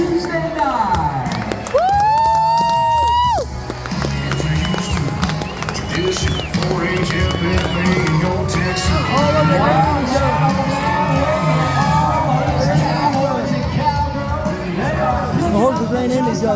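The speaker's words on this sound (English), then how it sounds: "Let's give all of our cowboys and cowgirls a big round of applause on a Tuesday night." Rodeo crowd at a county fair cheering and applauding for the bareback riders, a loud mix of clapping, shouts and whistles with an announcer talking over the noise.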